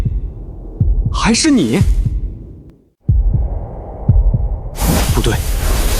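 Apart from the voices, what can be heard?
heartbeat sound effect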